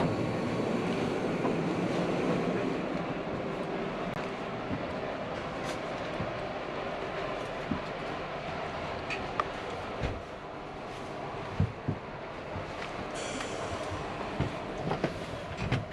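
An NSW XPT passenger train on the night service from Sydney to Melbourne rumbles steadily. It is heard from inside the carriage, with faint clicks and clunks from the track over a constant low roar.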